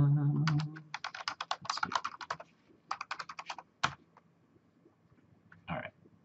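Quick bursts of typing on a computer keyboard as a username and password go in, close crisp rapid key clatter in several runs with pauses, a voice briefly heard at the start and a single word spoken.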